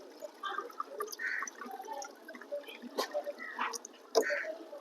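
Water poured by the glassful into a pot of rice, chicken masala and spices for country-style biryani: faint, scattered splashes and trickles that come and go quietly.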